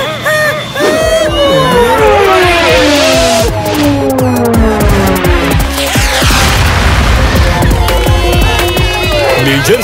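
A cartoon missile explodes with a loud boom and bursting rumble, layered over busy animated music and sound effects and crowd-like babble, all heard close and dense throughout.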